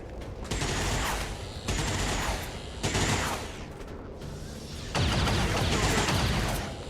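Soldiers firing in XCOM 2, several sustained volleys of gunfire that each run for a second or more, loud and close, with short gaps between the bursts and no talk.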